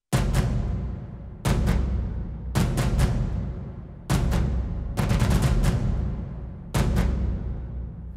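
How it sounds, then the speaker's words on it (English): Sampled tupan drums from a Tomb Raider film score, heard soloed: deep, booming hits with long ringing decays, some struck singly and some in quick flams or short rolls, loud and close with no other instruments. "So this is the sound of the tupans, how I sampled them."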